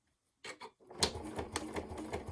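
Sewing machine stitching slowly along a zipper binding seam, a short burst then a quiet, even run of needle clatter, close and alone.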